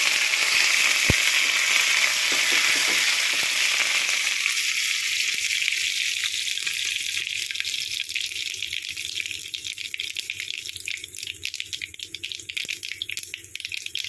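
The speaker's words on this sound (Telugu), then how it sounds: "ఆవాలు జీలకర్ర పచ్చనపప్పు మినప్పప్పు వేసుకున్నాం కరివేపాకు వేసుకున్నాం" Mustard seeds, cumin, chana dal, urad dal, curry leaves and dried red chilli hit hot oil for an ivy gourd chutney tempering, giving a loud, close sizzle that starts fierce and gradually calms into a steady crackling hiss.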